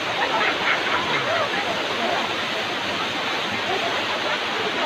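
Sinungkulan Falls at Lamac, Pinamungajan in Cebu pours with a constant, dense rushing roar of falling water, loud and unbroken throughout.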